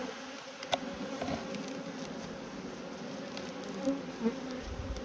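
Honey bees swarm thickly around a hive full of swarm cells, a dense, steady buzz close by with individual insects flaring louder as they pass near.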